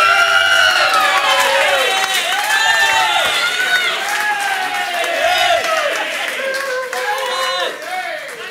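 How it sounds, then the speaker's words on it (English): Wedding guests at a reception cheer, whoop and clap loudly for the best man. Dense applause and lively shouting fill the room at full volume throughout, then ease slightly near the end. "can we get a bit more of a round of applause"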